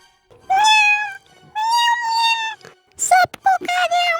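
A cat meows several times, long drawn-out cries followed by a few shorter, sharper meows, loud and close.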